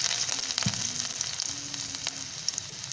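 Garlic sizzling in hot oil in a pan alongside green and black cardamom for shahi paneer, a steady close frying hiss with a few small pops and light scraping.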